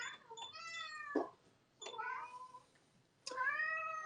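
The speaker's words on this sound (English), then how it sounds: "And let's feed the cats." Cats meow in a domestic setting, three separate drawn-out calls with short pauses between them, clear and close in a quiet room.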